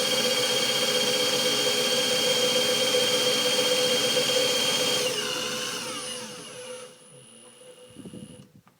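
A car alternator spun on a bench by a drill: a loud, steady whine with a strong tone that winds down over several seconds, followed by a few faint rattles.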